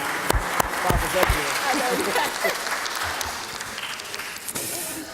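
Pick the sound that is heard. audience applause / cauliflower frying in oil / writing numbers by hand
audience applause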